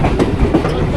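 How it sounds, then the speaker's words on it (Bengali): A passenger train rumbles past Ichapur station, heard from on board as a loud, close, continuous clatter and rumble of the rail cars. "আমরা ট্রেনে উঠে গেছি, ইছাপুর স্টেশন জাস্ট ক্রস করছে"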